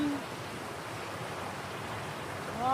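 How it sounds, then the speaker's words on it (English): A stream runs beside a woodland campsite, heard as a soft, steady rushing of water with no breaks, fairly faint and continuous throughout. "There's a stream"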